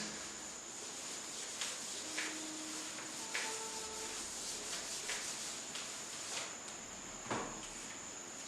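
A duster rubs writing off a classroom board in a series of faint, short scraping strokes, with no talk.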